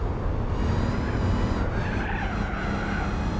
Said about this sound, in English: When it gets to the high revs, it sounds like a really throaty muscle car